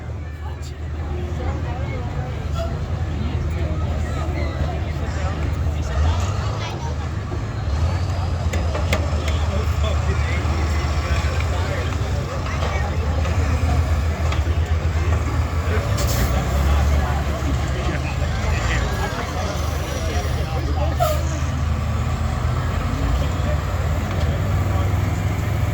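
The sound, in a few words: school buses crashing in a demolition derby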